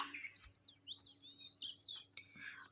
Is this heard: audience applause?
no